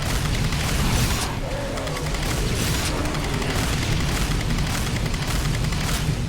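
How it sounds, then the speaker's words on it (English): An underbarrel grenade launcher in a Doom mod fires heavy launches in a chaotic scene, booming blasts and explosions repeating over a dense roar of combat noise that never lets up. "it's like a chonky grenade launcher. Underbarrel grenade launcher, we could call it."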